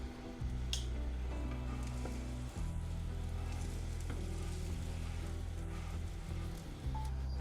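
A veg burger patty sears in a hot pan with a steady, close sizzle and crackle that runs unbroken, dipping briefly once or twice. No one speaks.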